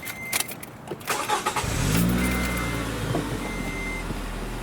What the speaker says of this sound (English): Now I will turn the donor vehicle on.